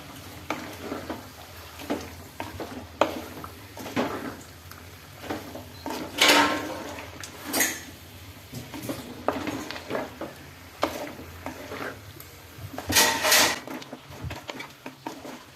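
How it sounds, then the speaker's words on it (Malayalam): Curd is stirred into a pot of avial, Kerala's mixed-vegetable curry, with a spoon scraping and knocking against the pot in irregular bursts, some louder strokes standing out, and no talking. "തൈര് ഒഴിച്ച് നന്നായി ഒന്ന് മിക്സ് ചെയ്യുക"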